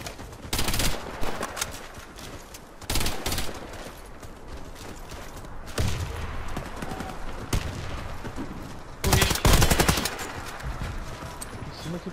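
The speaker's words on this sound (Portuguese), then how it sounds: "Lançador de granada, velho." A grenade launcher fires in the video game Warface, set among repeated loud bursts of gunfire and blasts against continuous battle noise. No voices are heard.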